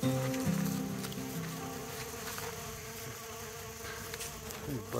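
Flies buzzing inside a tent on a hike down Fiftymile Creek, giving close, wavering drones that rise and fade as they circle, with no talking.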